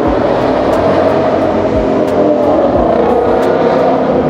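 A Ford Mustang passes by on a street in Manila, a loud, continuous engine roar up close with steady revving and no talk.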